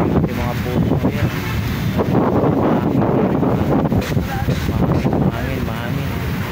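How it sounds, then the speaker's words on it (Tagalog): Gusty wind buffets the microphone on the shore of Manila Bay, a loud, rough, continuous roar with uneven surges, and someone talks intermittently over it. "Mahangin."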